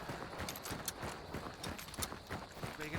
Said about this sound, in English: So I can hear his footsteps directly to my right.